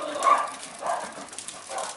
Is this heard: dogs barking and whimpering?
yes